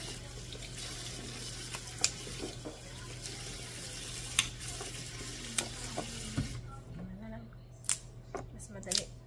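Tap water running and being collected into a container in a kitchen: a steady faint splashing stream with occasional clinks and bumps, under a low background hum and some talk.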